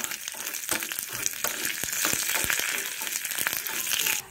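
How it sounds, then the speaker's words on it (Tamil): Mustard seeds, urad dal, a split dried chilli and curry leaves sizzle and crackle in hot oil for a chutney tempering, a close continuous frying hiss with scattered sharp pops. "கொஞ்சமாக கடுகுளுந்தம்பருப்பு, கடுகு நல்லா பொரிஞ்சிருச்சு. அது கூடவே ஒரு வத்தலை 2ஆக கிள்ளி வச்சுருக்கேன். 1 இனுக்கு கருவேப்பிலை."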